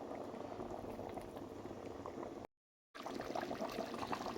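Senegalese thieboudienne of fish and vegetables simmers in a covered pot, a steady close bubbling boil with a brief dropout partway through and no talking.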